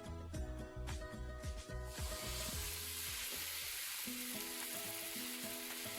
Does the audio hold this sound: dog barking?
no